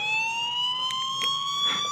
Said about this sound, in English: So it does actually give alarm.